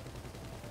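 Submachine gun fire in GTA 5 Online: a dense, rapid stream of game gunshots, fairly faint, with no pause through the brief burst.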